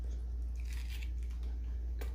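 A bite into crunchy, sugary, sweet Jollibee fast food gives a couple of close, crisp crunches over a steady low hum, with no talking.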